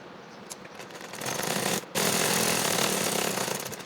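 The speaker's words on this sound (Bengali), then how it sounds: "আমি এক সাইড সেলাই দিয়ে নিচ্ছি।" A sewing machine runs steadily, stitching the side seam of fabric for a child's top, with a dense mechanical whir that briefly drops out before starting again.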